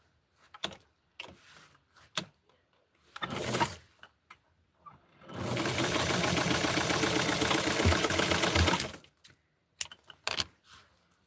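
A sewing machine stitches doll clothes for a 1966 Francie doll, running in one steady mechanical burst of about three and a half seconds, close and fairly loud, framed by light handling clicks and taps.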